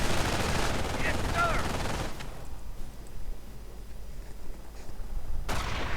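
Rifle and machine-gun fire rattles in a World War II real-time strategy game, with dense bursts at the start, a quieter stretch of scattered shots, then another loud volley at the end.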